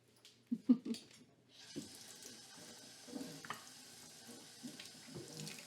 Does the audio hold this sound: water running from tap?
yes